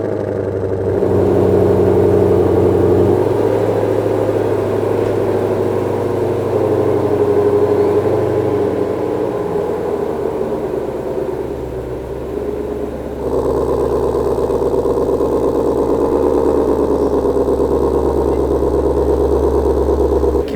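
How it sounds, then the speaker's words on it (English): A $117,000 car's engine starts up and settles into a steady, loud idle close by, inside a garage, with a shift to a fuller, louder rumble partway through. "let's see if she'll fire up"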